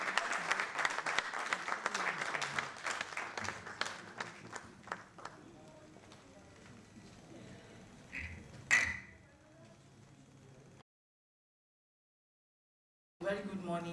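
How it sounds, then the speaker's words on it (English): Audience applause at a formal institutional meeting on gender mainstreaming, a loud burst of clapping at the start that thins out and fades over several seconds, followed by quieter room noise and a pause. "Please, can we applaud her?"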